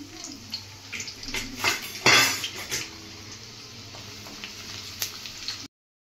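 Onion dropped with a bay leaf into hot oil in a kadhai, giving a burst of sizzling around two seconds amid clinks of utensils against the pan, close and moderately loud, with no talk.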